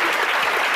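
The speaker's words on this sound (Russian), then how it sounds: "Это достойно аплодисментов." Loud, steady applause from a studio audience on a Russian talk show, a dense wash of clapping that fills the whole brief moment with no break.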